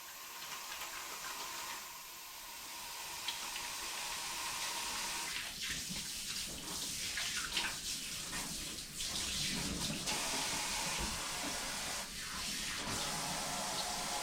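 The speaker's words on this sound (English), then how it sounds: "Wash my hands before I do anything else." A kitchen tap runs steadily for hand washing, a broad hissing rush with faint splashes as the hands move under the stream, with no talking.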